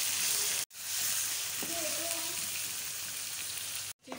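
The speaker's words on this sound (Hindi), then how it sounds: "अब जो है चिकन हमारा फ्राई हो रहा है" Chicken frying in hot oil for biryani sizzles steadily and close, a dense crackling hiss with brief stirring clatter, broken by two short gaps of silence.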